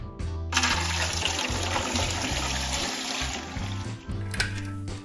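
Two liters of water poured into a home autoclave for canning, a continuous close splashing pour with hollow metallic ringing from the vessel throughout.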